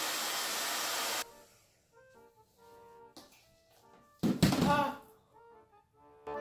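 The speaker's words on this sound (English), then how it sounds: "I then used the hairdryer to melt away the glue" A hair dryer blows hot air steadily at close range for about a second to melt glue, then cuts off, followed by quieter clicks, hums and a brief burst of rustling noise.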